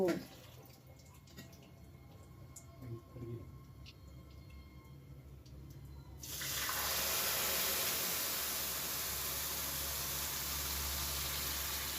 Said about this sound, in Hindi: अब इमें डालबो दूध।